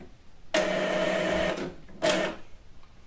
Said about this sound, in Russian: Дальше надо прочистить принтероголовку.